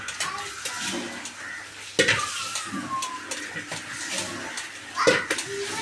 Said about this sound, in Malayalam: നമ്മൾ കൈ ഒട്ടിയിട്ട് വേണം നമ്മൾ കുഴക്കാൻ.